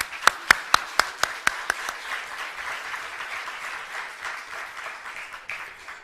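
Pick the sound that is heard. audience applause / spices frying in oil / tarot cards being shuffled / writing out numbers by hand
audience applause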